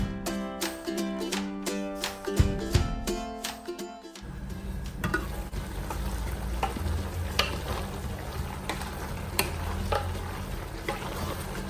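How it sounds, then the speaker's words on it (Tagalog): Pork menudo stirred in a casserole pot, a spoon scraping and knocking against the metal over a steady loud sizzle, with clattering at the start before the continuous frying hiss takes over. "Lagi nating balikan at haluin upang hindi dumakit ang karne sa kasirola."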